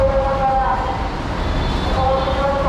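An LRT light rail train rolls along with a steady mechanical rumble. Sustained tonal whines run over the low roar, and the sound holds close and moderately loud throughout.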